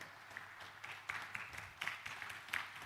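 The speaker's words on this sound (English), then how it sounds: "Let's give ourselves a round of applause" Audience applause at the Omniverse Summit, scattered claps rising and falling in uneven bursts across a large room, moderately loud with no talking.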